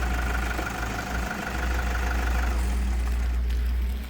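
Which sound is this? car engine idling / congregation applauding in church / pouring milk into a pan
car engine idling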